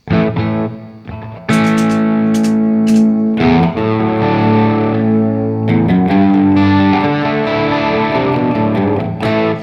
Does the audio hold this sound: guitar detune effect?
yes